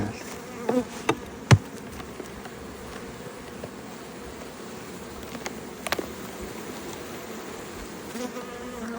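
Honeybees hum continuously around an open beehive with frames of honey, a close, steady buzz with a few brief knocks and clicks from handling the hive.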